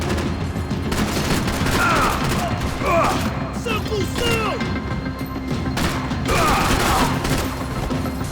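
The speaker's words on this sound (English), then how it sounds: "Shotty shotgun. I'm gonna use this for a little bit though." Shotgun fire in the video game Max Payne 3, heard as repeated booming blasts with mechanical clacks in a busy, loud game soundscape, with some talking mixed in.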